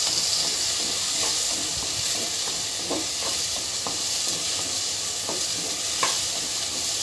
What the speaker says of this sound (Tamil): இப்போ இதை நல்லா வதக்கி விட்டுக்கோங்க சுண்டைக்காவை.